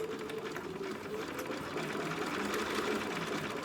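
A sewing machine stitches a seam on a mouse-style dog dress, a steady close, continuous mechanical whirring hum without pause.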